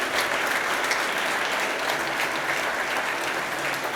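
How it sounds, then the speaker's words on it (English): A church congregation at an ordination service breaks into steady, dense applause, many hands clapping together continuously at an even level throughout. "Give a big clap to the Lord."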